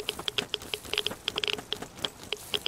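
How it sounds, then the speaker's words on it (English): Rain in the video game Zero Sievert comes through as a sparse, irregular patter of sharp little drops ticking one after another, close and fairly crisp, without voices. "This rain is gonna kill us very quickly if we stay any longer."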